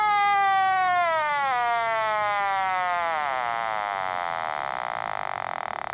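A Multi Rae meter leak detector powers up with a loud electronic whine that sweeps steadily downward in pitch, then settles into a sustained buzzing tone, close and continuous, with no speech.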